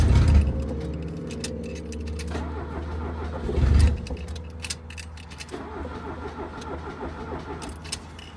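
A 1980 Fiat 124 engine cranks on its starter with starter fluid and catches, rising to a loud rough roar about four seconds in. It then settles into an uneven, sputtering idle close by, with a few clinks of keys or metal.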